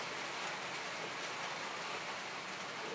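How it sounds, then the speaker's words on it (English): Rain falls outdoors in Sydney as a dense, even hiss of drops on surfaces, steady and moderately faint with no voices. "Excuse the rain if you can hear it,"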